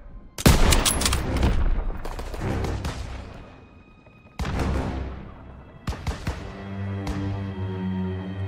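Heavy covering gunfire in the World War II shooter Call of Duty: WWII, loud rifle and machine-gun bursts with booming blasts and ringing decays, coming in several separate volleys.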